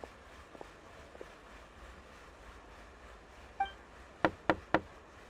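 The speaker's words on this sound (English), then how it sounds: "I'll go knock on the door." Knocking on a door in Genshin Impact: three crisp, evenly spaced knocks near the end, after faint ambient game sounds and a soft chime, with no voices.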